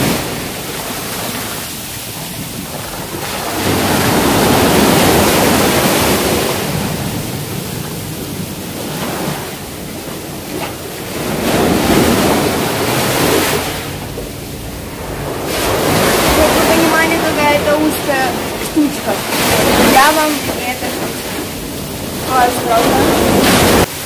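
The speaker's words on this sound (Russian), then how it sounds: "Сильная волна" Strong ocean waves break and surge onto a beach on the Portuguese coast, rising and falling in loud washes of surf with wind noise, and brief voices are audible between the swells.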